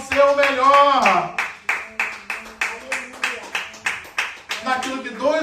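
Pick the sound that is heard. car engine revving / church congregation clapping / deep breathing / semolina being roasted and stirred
church congregation clapping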